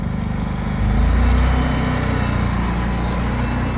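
A Champion 8500 watt inverter generator runs steadily at high idle, a close, continuous engine drone with a low hum that swells slightly after the first second and then holds even, with no voices.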